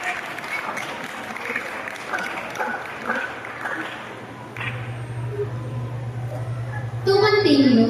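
Grade 6 graduates at a graduation ceremony applaud their parents, a round of crowd clapping with voices mixed in, then a low hum and louder noise toward the end.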